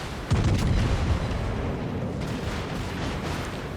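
Heavy battleship gun salvos from the Friedrich der Große in World of Warships, a loud booming blast near the start that rolls into a sustained low rumble and fades slowly.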